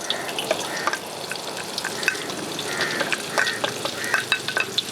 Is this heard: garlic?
yes